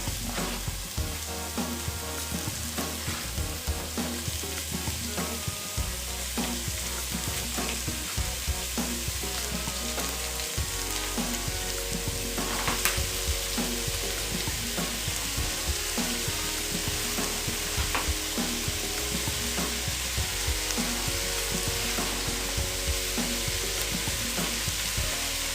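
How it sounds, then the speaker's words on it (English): Beef mince fries and browns in a pan for a curry, a steady dense sizzle with occasional stirring clatter, close and continuous throughout. "And I'm adding some beef mince. I'll allow that for 2-3 minutes to also brown."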